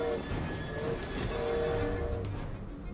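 Steam-era train rumbling past in the video game Assassin's Creed Syndicate, set in Victorian London, a heavy continuous roar with rolling rattle and a faint whistle-like tone, loud and close, with no talking.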